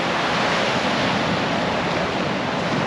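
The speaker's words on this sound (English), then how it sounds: "They're not massive waves." Small ocean waves wash continuously onto the shore along the Tasmanian coast, a dense, steady roar of surf with no voices.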